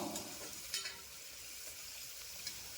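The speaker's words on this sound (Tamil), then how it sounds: "பெரிய வெங்காயம், 1 பச்சை மிளகாய் வந்து சேர்த்துருக்குறேன். நல்லா வதங்கட்டும்." Onion and green chilli sautéing in a pan for egg biryani, a steady quiet sizzle with a few brief stirring clinks near the start and late on, no talk.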